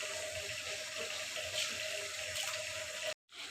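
Water from boiling rice, about 1.5 kg cooked for biryani, pours steadily through a strainer, a continuous close rushing splash that stops abruptly near the end.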